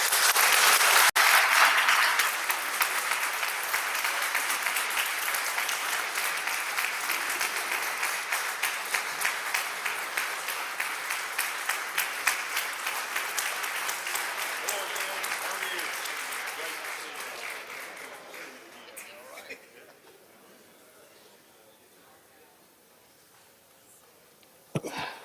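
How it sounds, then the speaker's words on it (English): Sustained applause on the Mississippi House floor for a special guest, a long dense round of clapping that gradually dies away into quiet room sound. "Give him a round of applause."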